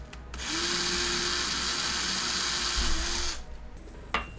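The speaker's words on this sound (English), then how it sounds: "We're gonna have to just drill a really thin hole." Small power drill whirring steadily as it bores a thin hole through PVC tubing, a continuous high buzz running about three seconds before cutting off, followed by a brief clack.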